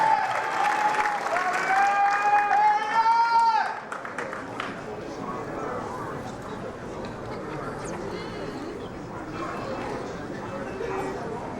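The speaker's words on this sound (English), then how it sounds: "A round of applause for Carry On Sinclair." A crowd at a pageant-style stage event applauds a contestant called to the stage, steady loud clapping under music for a few seconds that then drops to a softer murmur.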